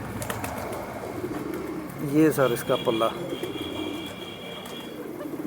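Old-style domestic fancy pigeons give a short burst of throaty cooing close by, and someone speaks briefly over a steady outdoor background.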